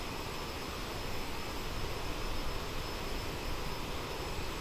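The rear-mounted jet engines of an Aerosoft CRJ-900 in a flight simulator, heard from outside as a steady, loud, broadband roar with no change across the clip.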